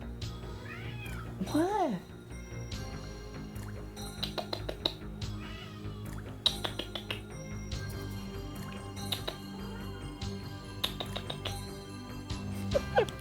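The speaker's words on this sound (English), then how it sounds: "Can you hear the cat meowing?" A cat meows repeatedly indoors, rising and falling cries near the start, with further meows and clicky dripping sounds scattered throughout while a person speaks briefly.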